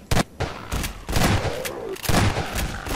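Bursts of gunfire from the first-person shooter Half-Life 2, with sharp shots and dense volleys through three seconds, loud and close, with a little game noise underneath.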